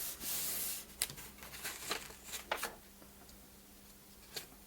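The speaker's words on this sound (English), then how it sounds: "just kind of rub that so some of the ink gets on my cardstock" Cardstock pressed face down onto an inked background stamp and rubbed by hand, giving soft, close scratchy rubbing strokes in short irregular bursts that fade toward the end.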